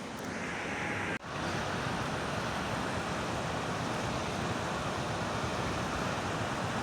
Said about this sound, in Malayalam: ആ വെള്ളച്ചാട്ടത്തിൻ്റെ ഒരു കാഴ്ചയാണ് ഇന്ന് നിങ്ങളെ കാണിക്കുന്നത്